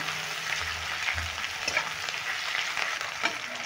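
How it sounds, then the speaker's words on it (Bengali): Sliced onions and green chillies frying steadily in hot oil, a continuous crackling sizzle with occasional stirring clatter, heard close up and without any talk. "আমি পেঁয়াজটা একটু লালচে করে ভেজে নেব"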